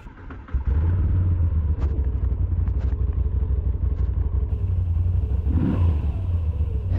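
A Moto Guzzi V7 Stone's air-cooled engine fires up after a short crank and settles into a steady, loud, throbbing idle close by, with a few small clicks over it.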